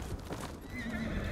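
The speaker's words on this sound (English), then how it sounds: "You goofy ass horse." A horse in Ghost of Tsushima lets out a whinny over the patter of hooves, a short, fairly quiet burst with game ambience around it.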